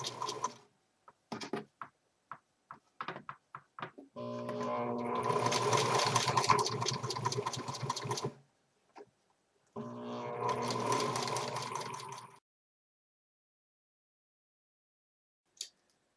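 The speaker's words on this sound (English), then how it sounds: "you're again going to pull tight and sew to the inside of the elastic" Sewing machine stitching elastic onto a fitted cloth diaper, sounding in two sustained whirring runs of about four and three seconds, preceded by short stop-start bursts and brief clicks.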